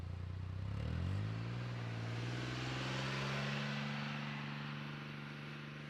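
A Polaris Ranger XD1500 driving in tow/haul mode: its engine revs up, rising in pitch, then settles into a smooth, moderately quiet steady drone as the utility vehicle moves along.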